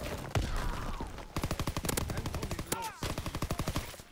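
A PPSh submachine gun with no attachments fires in a WW2 shooter game in rapid, loud bursts of evenly spaced shots, broken by brief pauses, close and dominant.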